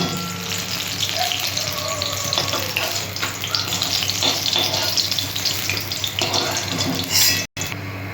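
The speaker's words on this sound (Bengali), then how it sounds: "এখানে 5 ফোড়ন, শুকনো লঙ্কা, তেজপাতা ফোড়ন দিয়ে দিলাম" Panch phoron, dried red chilli and bay leaf tempering in hot oil for a ridge gourd fritter curry, giving a steady, loud, close sizzle and crackle that runs throughout.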